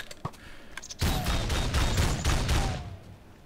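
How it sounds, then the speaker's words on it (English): Gunfire bursts from a turret in the Technic Minecraft mod, a rapid volley of loud synthetic shots after a couple of sharp ticks, lasting about two seconds before fading out. "As you can see, it sounds like a gun cannon, but it shoots itself off."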